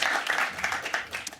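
A brief burst of audience applause welcomes the panel speakers taking their seats at a sales leadership conference panel; dense, steady clapping from a room of people, fairly close, with no talking.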